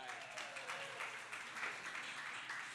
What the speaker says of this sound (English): Can we get a big round of applause for Coffee?